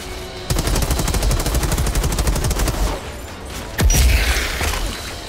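Rapid automatic sniper rifle fire in the Outriders shooter game, a loud sustained burst of closely spaced shots, a pause, then a heavier single boom with ringing tail.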